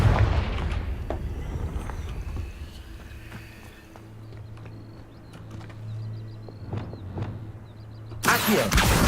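Spell explosions and combat in a Harry Potter video game, with sharp booming blasts and impacts scattered through the clip, a low sustained hum in the middle and a loud burst near the end.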